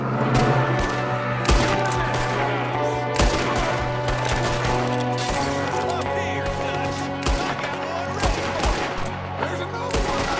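Repeated gunshots crack out in bursts during a first-person Red Dead Redemption 2 shootout, sharp loud reports scattered over a steady droning music bed and game ambience, with occasional heavier thuds.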